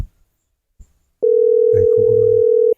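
A steady telephone tone sounds during a call, one continuous flat beep lasting over a second, loud and close, with a voice speaking briefly beneath it and a couple of soft knocks before.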